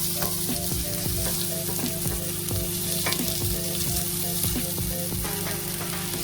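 Onions frying in a pan for a Kerala-style mutton stew, a dense steady sizzle with regular stirring scrapes throughout, close and without speech.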